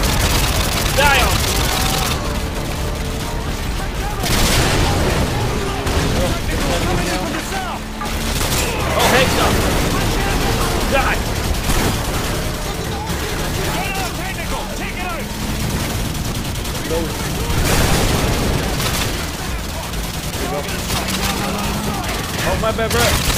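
Call of Duty Modern Warfare 2 combat with sustained gunfire, bursts of rifle and machine-gun shots and booms recurring loudly across the scene while players talk over the action.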